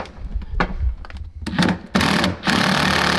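Right-angle drill backing screws out of a van's interior wall panel, heard as short close whirring bursts separated by brief handling knocks, with no talk.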